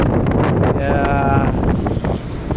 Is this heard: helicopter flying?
no